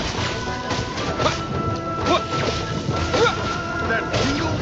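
Lightning attack crackling with thunder in Genshin Impact, repeated loud bursts of electric crackle and rumble over game sound, with voices speaking briefly between hits.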